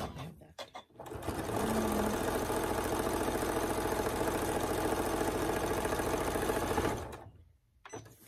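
Sewing machine stitching a quarter-inch seam along a pinwheel quilt top, a steady close running whir of rapid needle strokes lasting about six seconds, starting and stopping abruptly with quiet pauses on either side.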